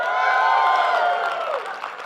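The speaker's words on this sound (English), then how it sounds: "No, you got to cheer. It's got to be like applause meter." A church congregation cheers and applauds in support of the Kansas City Chiefs, a brief loud swell of shouting voices and clapping that fades slightly toward the end.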